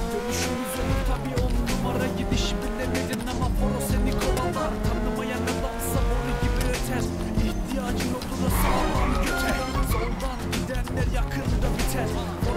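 A modded Mercedes SL 65 races at speed in GTA 5, its engine roaring steadily with tire squeals and skids throughout, loud and close for the whole stretch.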